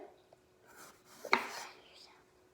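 Kitchen knife cutting a sweet potato into thin slices, one crisp chop against the board ringing out quietly and close, preceded by soft handling noises.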